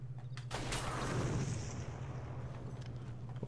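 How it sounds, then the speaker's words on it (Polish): A lamp explodes in the video game Red Dead Redemption, a loud boom with a sharp onset and a long rumbling tail, over a steady low electrical hum, with no voices. "Od kiedy lampy tak wybuchają?"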